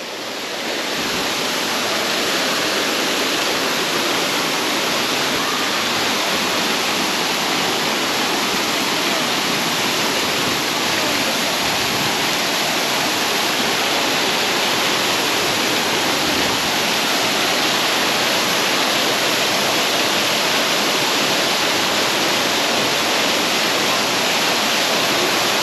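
Bato Falls, a modest waterfall in the Philippines, gives a steady, loud broadband rush of falling water that holds evenly throughout with no talking.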